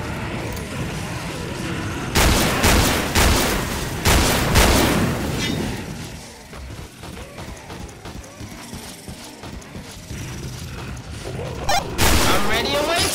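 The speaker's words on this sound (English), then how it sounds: "Watch it, I'm reloading" Weapon reloading in the horror shooter Killing Floor on the West London map: quick metallic clicks and clacks of a magazine swap, surrounded by bursts of gunfire and shouting voices.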